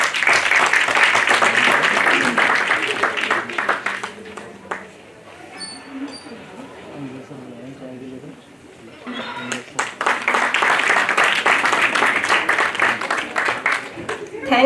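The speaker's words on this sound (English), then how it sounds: "A big round of applause." Loud, sustained applause from a conference audience, dipping to a quieter murmur of clapping and voices midway before swelling back up to full strength.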